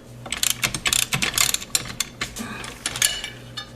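A torque wrench ratchets a clutch bolt up to 36 foot-pounds on a 1973 Honda CB750 custom build. Rapid, close metallic clicking comes in uneven bursts, with brief pauses between pulls.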